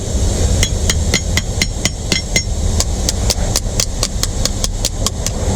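Repeated sharp metal taps from a hammer seat a rear brake part on a 1948 Dodge, struck in a steady series of about fifteen close, loud blows over a constant low hum.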